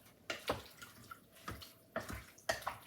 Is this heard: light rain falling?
no